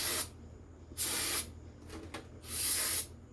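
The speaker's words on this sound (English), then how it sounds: "I'm just spraying it down with brake cleaner." Brake cleaner sprayed onto small carburetor parts from a John Deere GX85 engine: three close, loud hissing aerosol bursts of roughly half a second each, separated by short pauses with a couple of brief puffs between.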